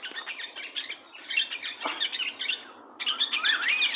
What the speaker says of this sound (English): Look at this bird, guys.